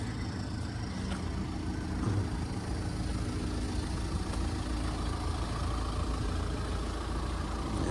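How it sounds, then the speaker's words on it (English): A tuned and deleted 2004-era-style VW 2.0 TDI CKRA turbo diesel with a Rawtech pipe runs steadily, giving a low, even engine drone with a faint airy whistle on top, recorded from a moderate distance. "You can hear it just whoosh. Doesn't sound like my LBZ Duramax, but it's got a similar whistle, you know, turbo whistle on a diesel."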